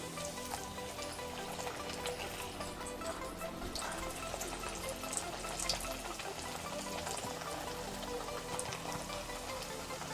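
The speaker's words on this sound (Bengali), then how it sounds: "একটু ভালো করে একটু নেড়ে চেড়ে ভেজে নিতে হবে" Dal puri, lentil-stuffed flatbread made with masoor dal, frying in hot oil, giving a steady, dense crackling sizzle that runs without a break.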